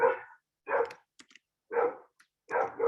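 A dog barks in loud, close bursts, four separate barks spaced about a second apart, with a few faint higher yips between them.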